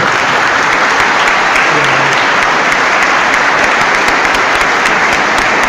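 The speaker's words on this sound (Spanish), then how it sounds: "Recibamos al hermano con un fuerte aplauso." Loud, sustained applause from a Christian congregation welcoming a speaker at a religious debate event, dense continuous clapping close by for several seconds with no talk over it.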